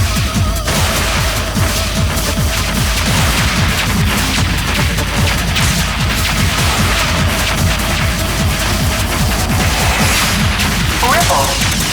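Mech weapons fire in Zone of the Enders: The 2nd Runner on PS2, a dense continuous barrage of blasts and crashing impacts amid game soundtrack, with character voices speaking over the combat.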